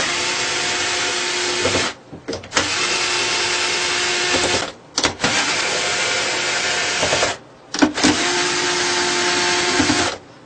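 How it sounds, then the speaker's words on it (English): A power tool undoes the bolts on a PMA/PMG wind turbine housing in three loud, sustained whirring bursts, each separated by short pauses and clicks, close up and with no talking. "Now, I'm going to go ahead and undo the bolts."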